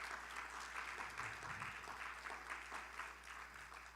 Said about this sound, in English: So let's give a round of applause for our speakers.